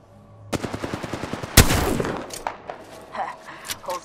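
Mastiff shotgun fire in a video game: a rapid burst of sharp reports followed by a heavy booming blast and a fading tail, with a few scattered shots after, loud and close.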